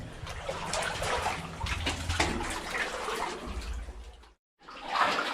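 Water sloshes and splashes steadily as someone wades waist-deep through a flooded tunnel of Bale Bank Mine near Greenhow, North Yorkshire, close and fairly loud, with a brief dropout to silence before the splashing resumes.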